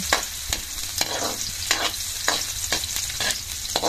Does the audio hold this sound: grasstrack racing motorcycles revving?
no